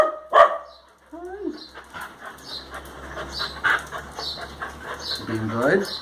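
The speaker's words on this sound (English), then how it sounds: "Make noise. Make noise. Bark." A dog gives a couple of sharp, close barks at the start, followed by softer yips and whines while a person speaks excitedly and warmly over it.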